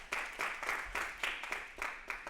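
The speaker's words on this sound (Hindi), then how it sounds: "तो एक बार आप लोग हमारे शो के लिए जोरदार तालियां बजाएं।" Audience at a stand-up comedy show claps in rhythmic, fairly even bursts, moderately distant and without talk over it.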